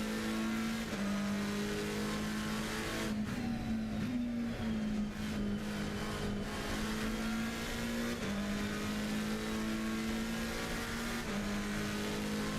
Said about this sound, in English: Love the sounds of the cars.